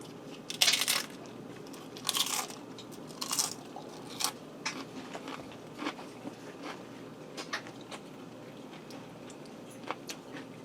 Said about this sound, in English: You get the crunch from the tortilla chips.